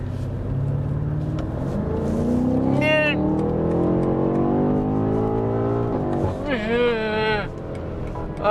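BMW M8 Competition launching hard with launch control, a loud, close engine roar that rises and holds with excited shouting and talking over it, and a second sharp burst of revving near the end.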